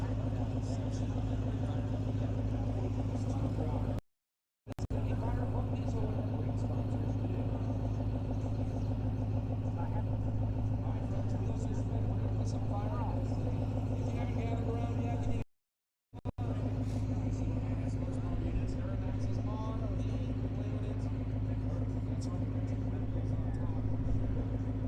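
Diesel pickup truck running on a chassis dyno at a custom fab shop's diesel truck show, a loud continuous engine roar with steady low rumble, briefly cut twice, crowd talk mixed underneath.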